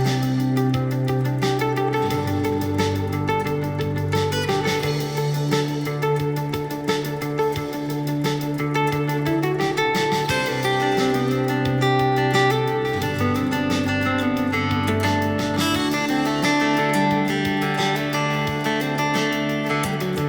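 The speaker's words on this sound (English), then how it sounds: "what you heard there was me using the looper function of this guitar," An NEXG2 smart audio guitar plays through a speaker, its looper stacking repeating chord and melody layers into a continuous, full-sounding loop of steady volume with no speech.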